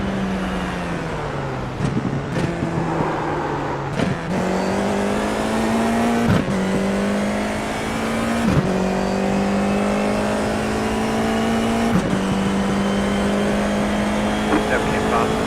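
Race car engines in a racing video game hold a steady high drone that rises in pitch through each gear, then drops sharply at every shift, about five times. A spotter's voice talks over the continuous engine noise.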